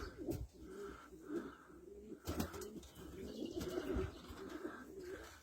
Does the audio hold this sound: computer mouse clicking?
no